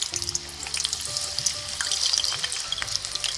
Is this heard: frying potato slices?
yes